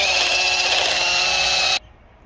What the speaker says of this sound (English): Might buff this with the wire wheel